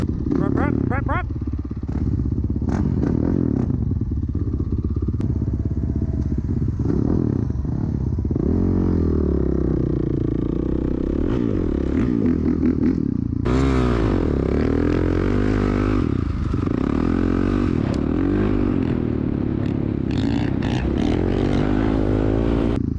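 A dirt bike engine rides through the Glamis dunes at night, loud and close, with rising and falling revs, gear changes and clattery bursts throughout, and voices heard briefly over it.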